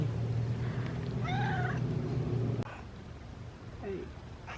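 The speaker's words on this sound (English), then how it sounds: "I like its meow." A cat lets out a clear drawn-out meow close by over steady background hum, then a shorter softer meow a moment later.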